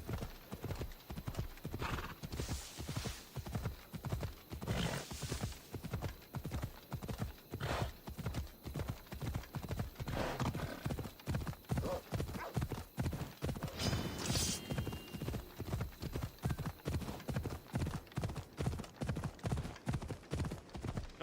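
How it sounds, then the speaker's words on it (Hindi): A horse gallops steadily uphill in Assassin's Creed Odyssey, hooves clip-clopping in a fast even rhythm throughout with occasional snorts and a whinny, close and continuous with no talk. "पहाड़ के ऊपर घोड़ा चढ़ जाएगा मेरा इतना?"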